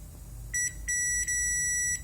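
A washer tank level sensor sounds a loud, high electronic beep: two short tones, then one long steady tone, with steady low hum beneath.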